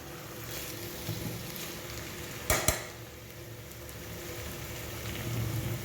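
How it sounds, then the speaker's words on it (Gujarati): Dry Gujarati potato sabzi with coriander is stirred in a pan, giving a soft steady sizzle and a gentle scraping. Two quick metallic clinks of the spoon against the pan sound midway, and no one speaks. "હવે આપણે આની ઉપર ધાણા એડ કરી દઈશું અને આને મિક્સ કરી લઈશું."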